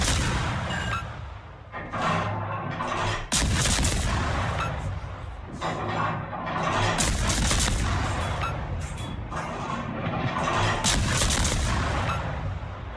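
Naval guns firing in World of Warships, a rapid sequence of heavy booming salvos and dense overlapping gunfire, loud and close, with sharp blasts breaking through a continuous rumble.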